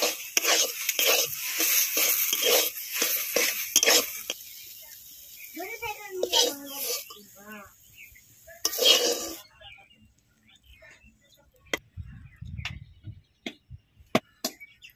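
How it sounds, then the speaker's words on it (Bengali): Fish curry in oil sizzles in a pan while a spoon stirs it in quick, rhythmic scraping strokes, then a voice talks briefly before one more burst of stirring and a quieter tail. "এবার 1 মিনিট নাড়িয়ে নামিয়ে নেব।"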